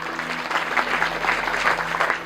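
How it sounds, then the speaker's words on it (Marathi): An audience applauding at a Marathi kirtan devotional gathering, dense sustained clapping from a large crowd that swells and continues steadily throughout. "एकदा आपल्याला जोरदार टाळ्या वाजवा"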